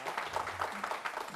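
Scattered, moderate clapping from an audience at a live midday show, a brief uneven patter of hands.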